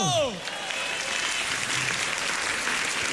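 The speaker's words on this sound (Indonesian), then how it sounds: "Tepuk tangan sekali lagi untuk Viko." A studio audience at a stand-up comedy grand final claps for comedian Viko, a dense, even burst of applause held steady throughout, with a voice briefly heard at the start.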